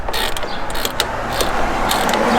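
A ratchet loosens the bolts holding a vehicle's bumper, giving bursts of quick metallic clicking and creaking turns close by with a few sharper knocks, and no talking.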